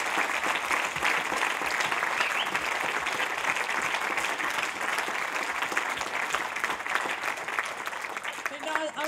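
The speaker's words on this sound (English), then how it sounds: "I think we should give them one more round of" Sustained applause from an audience at a college blue plaque unveiling during Girton College's 150th anniversary festival, a dense, steady roar of many hands that holds at full strength throughout and eases only slightly near the end.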